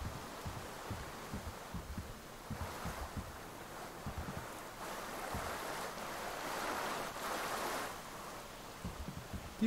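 Volga river water washing and lapping in Metro Exodus, a steady rushing wash of waves with soft wind over it, continuous and fairly distant, with no talking.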